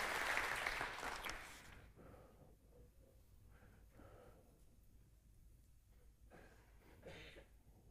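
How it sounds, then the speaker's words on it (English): A church congregation claps in praise during a Sunday service, a dense burst of hand claps for about two seconds that quickly dies away into a quiet room with faint rustling. "Can you give the Lord a hand clap of praise this morning?"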